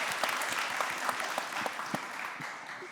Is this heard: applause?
yes